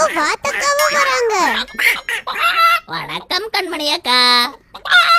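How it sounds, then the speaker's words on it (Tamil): A cartoon hen and duck call out with high, honking cries, the loudest a clear, rapid burst near the end, mixed in with animated character voices greeting each other. "கோலியம்மாவும் வாத்தக்காவும் வராங்க."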